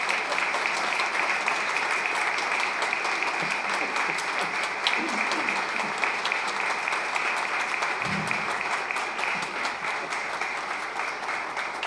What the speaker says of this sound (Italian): Quindi adesso l'applauso è al vicario.